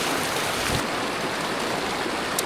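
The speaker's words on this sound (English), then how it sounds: "I'm just putting water in it now and collecting water so I don't have to worry about it later." Cold mountain stream water rushes steadily on a solo alpine traverse while a bottle is filled from it, a continuous close, loud wash with no voices.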